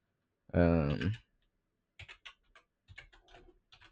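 A computer keyboard is typed on in short, uneven bursts of close clicks, following a brief voice at the start.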